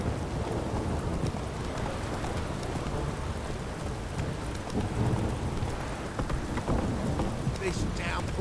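Steady rain pours in The Witcher 3, a dense wash of droplets on surfaces throughout, with low rumbles of thunder rolling underneath and a few faint higher ticks near the end.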